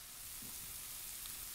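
Lamb shoulder frying in spiced oil for a tagine gives a steady, fairly quiet sizzle that holds evenly from start to finish, with no talking.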